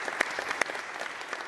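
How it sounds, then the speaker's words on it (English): Applause at a county Board of Supervisors meeting honoring the supervisors' aides, a steady crackle of many hands clapping in a room with a couple of sharper claps standing out, fairly quiet overall. "Can we give an applause to the aides that work their butts off?"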